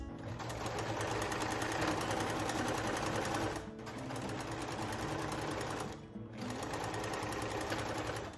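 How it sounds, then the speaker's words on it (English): A sewing machine stitches and finishes the seams of a dress, running as a loud, steady, close mechanical whir that stops twice for brief pauses before starting again. "So now we're gonna sew and then finish these seams"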